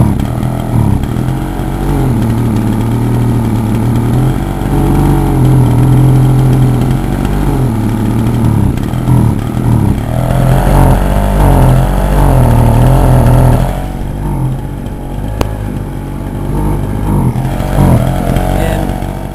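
Husqvarna 125BT backpack leaf blower with engine problems, warmed up and running loud and steady close by, a rough two-stroke drone that surges and wavers, dipping briefly near the end before picking back up.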